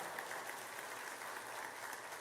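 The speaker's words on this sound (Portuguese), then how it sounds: "Vamos aplaudir o Senhor pela sua palavra." A Baptist church congregation applauds after a Portuguese-language sermon reading, producing a faint, even wash of clapping that stays steady throughout without any voices standing out.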